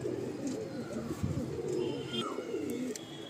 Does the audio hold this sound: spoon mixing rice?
no